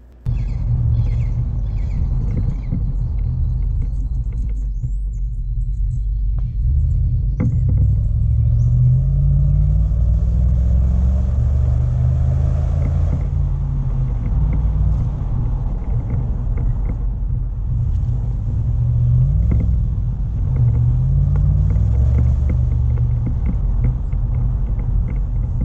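A 2010 Range Rover Sport HSE engine pulling uphill on Chancellor Hill, heard as a steady, loud low rumble with gentle swells in pitch as the car climbs, continuous for the whole stretch with no talk.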